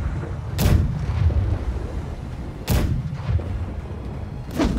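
Ship broadside cannons firing in the pirate naval game Blackwake: three loud booming blasts spaced roughly two seconds apart, each a sharp broadband crack followed by a rumbling low tail.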